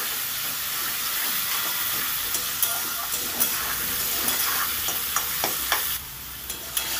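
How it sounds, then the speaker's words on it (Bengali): Potatoes fry in oil with salt and turmeric under a continuous hissing sizzle, while a spoon or spatula stirring in the pan makes sharp clicks and scrapes throughout. "হলুদ লবণটা দিয়ে ভালো করে নেড়ে চেড়ে আমি আলুগুলোকে লাল করে ভেজে নেব"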